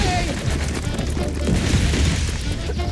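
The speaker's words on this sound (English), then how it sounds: "Bombs!" Cartoon bombs going off in a burst of booming blasts and crashes, loud and close, piling over one another for a few seconds.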